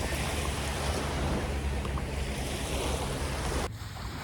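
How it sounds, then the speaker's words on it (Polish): Sea waves on a Majorca beach stirred up by a huge passing ship, a loud continuous rushing wash of surf with heavy wind noise on the microphone, cutting off abruptly near the end. "Zobaczcie, ten ogromny statek e, spowodował takie fale"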